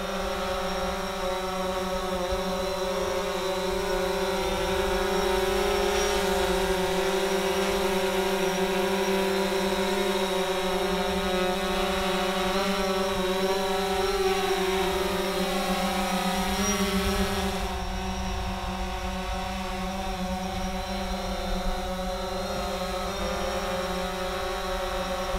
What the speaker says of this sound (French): Quelques essais de mouvement avec le drone.